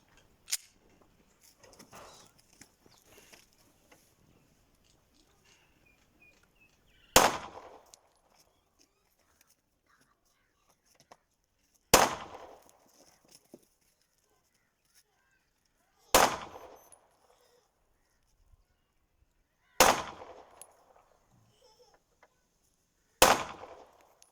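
Six sharp, loud 9mm pistol shots from a Taurus G3C, spaced several seconds apart with near silence and faint rustling between them, in an outdoor test firing in Peshawar.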